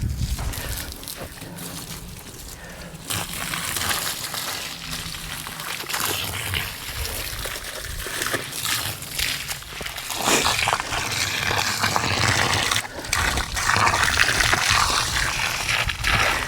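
Water runs from a bright red outdoor faucet into a hole dug for a replacement fence post, a steady pouring and trickling that stays fairly close and continuous, with some footsteps and movement around it.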